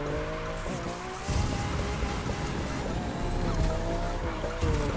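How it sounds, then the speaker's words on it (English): Tires squealing and skidding in The Crew 2 racing game, with a steady engine roar underneath and pitched screeches sliding up and down as the car drifts, loud and continuous throughout. "Just tear up the tires"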